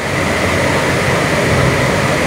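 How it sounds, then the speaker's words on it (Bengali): A train approaching on the Kalurghat hardware bridge in Chattogram, a steady loud broadband rumble and rail roar with no break. "ট্রেন আসছে"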